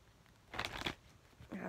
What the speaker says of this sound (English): let me get these shuffled in there good here